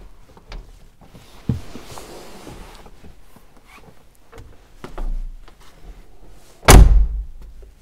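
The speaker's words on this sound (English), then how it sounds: "So if you open the door, the running board will also flip out." The rear-hinged rear door of a 2021 Mercedes G-Class Hofele Design, with a running board that flips out, opens with soft clicks and thuds, then shuts with one loud, close slam near the end.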